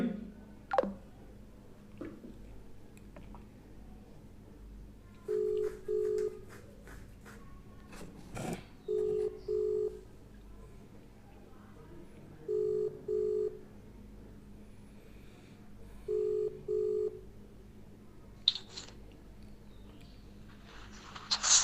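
A phone call rings back in a repeating pattern, short double tones spaced a few seconds apart, faint beneath room noise and occasional knocks.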